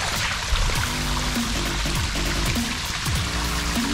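River water flows steadily at an RC crawler park, a continuous rushing, splashing wash that stays close and fairly loud throughout, with no talking.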